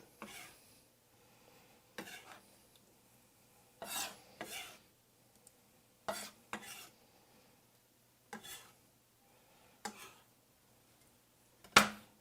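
Vegetable ratatouille of tomato and mixed vegetables scooped up with a utensil: a string of soft, brief scraping and clinking strokes against a pot at irregular intervals, fairly quiet and close, with one sharper clink near the end and no talking.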